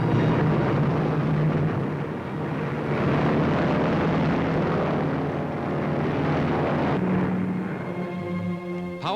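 A Lockheed Constellation four-engine transport plane, powered by 18-cylinder engines, flies on its first cross-country flight in 1944, with a loud sustained propeller-engine roar that shifts in pitch toward the end.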